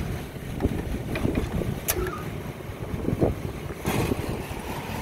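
Gusty wind on a rooftop during a Carrier HVAC service call, a constant low rumbling buffet against the microphone with a few faint knocks and clicks and no talk.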